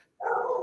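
A pet dog barks once, a single sustained close bark or yelp that begins abruptly after a brief silence and holds steady to the end.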